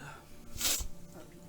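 A single short sneeze bursts out close by, loud and breathy against a quiet room, with people talking just before and after it.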